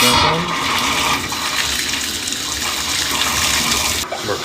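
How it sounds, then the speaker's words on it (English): Water gushes strongly and steadily from a just-repaired leaky faucet, a loud, close, continuous rush that cuts off abruptly near the end, with no one talking. "So just turn the water back on."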